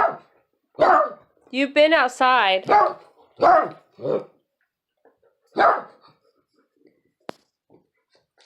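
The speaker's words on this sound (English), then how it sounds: "barks a lot" A dog barks several times at close range, loud sharp barks with a burst of whining or yelping in the middle, spaced irregularly, and someone speaks briefly between them.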